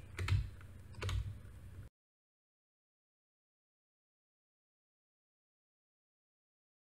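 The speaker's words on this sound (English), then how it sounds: "And now I can use my arrow keys to move this image." A couple of computer keyboard arrow keys pressed in a short burst near the start, clicks close and clear, then silence.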